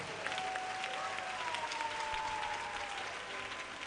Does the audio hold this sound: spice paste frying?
no